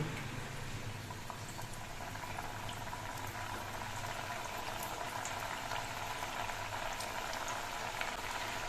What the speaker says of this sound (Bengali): এবার তেলের মধ্যে দিয়ে গজাগুলো আমি ভেজে নিচ্ছি